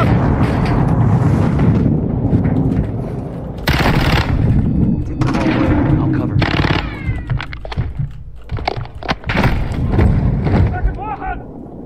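Rapid gunfire and explosive bursts ring out in a Call of Duty Modern Warfare II campaign firefight on a bridge, loud and continuous, mixed with shouted squad voices and chaotic combat noise.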